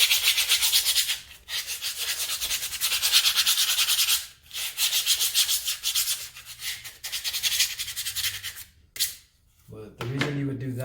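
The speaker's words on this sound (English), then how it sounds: "we could rough it up with the excess grip tape" Harsh, scratchy rubbing as an electric unicycle pedal surface is roughed up with excess grip tape, in long continuous strokes with brief pauses, close up; a voice speaks near the end.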